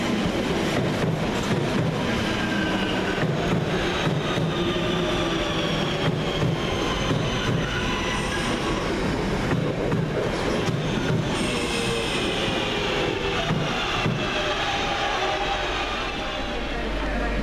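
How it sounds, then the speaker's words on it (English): Train on the Cross City Line running into Bromsgrove, a loud continuous rumble of wheels on rails with rhythmic clatter and some squealing, heard from on board throughout. "This train does terminate here at Bromsgrove."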